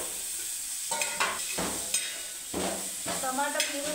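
A spoon scrapes and stirs tomato into chili powder and turmeric frying in a pan, giving a steady soft sizzle broken by several short scraping strokes, close and alone.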